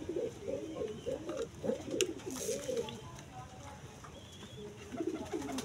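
A sick pet pigeon eating grains, giving soft, repeated throaty coos in short bursts, close and fairly quiet, with small pecking clicks between calls.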